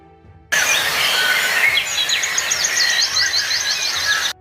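Morning birdsong, several birds chirping and trilling together in a bright, continuous chorus that starts abruptly and stays loud, with faint insect-like buzz underneath.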